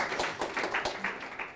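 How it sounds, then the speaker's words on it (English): An audience at an evening tech talk on CSS claps steadily, dense overlapping hand claps at moderate distance, fairly soft and continuous with no voices standing out. "everybody can clap, that's nice"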